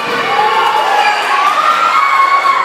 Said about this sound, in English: This crowd is going berserk!